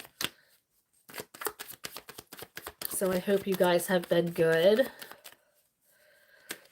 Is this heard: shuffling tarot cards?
yes